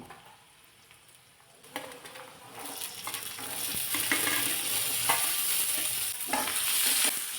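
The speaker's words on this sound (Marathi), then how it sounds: "मी पावटा शिजवून न घेता असे तेलामध्ये बी भाजून घेते" Shelled field beans roasting in hot oil with onion in a pan, a sizzle that builds from quiet to a steady, close hiss with intermittent scraping stirs, no talking.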